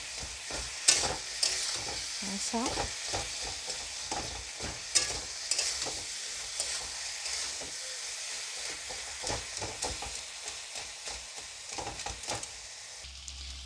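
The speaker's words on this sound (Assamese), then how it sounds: "এইখিনি ভালকৈ ভাজি ল'ম।" Boiled potatoes and cabbage stir-fried in a pan with a spatula for an Assamese fish curry, a steady sizzle broken by repeated scraping and stirring strokes, fairly quiet, with a brief spoken word.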